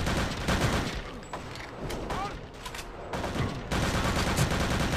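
Rifle fire in Return to Castle Wolfenstein VR comes as dense bursts of shots with mechanical clatter, loud and nearly constant, and voices talk over the shooting.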